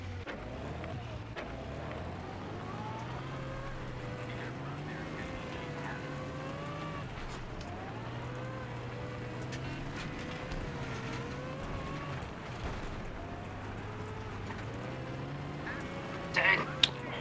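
A Jeep driving in the video game DeltaOps on a Grand Bazaar map, its steady engine drone rising and falling in pitch throughout, mixed with other game noise and voices over it.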